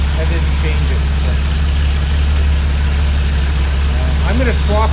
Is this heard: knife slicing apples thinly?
no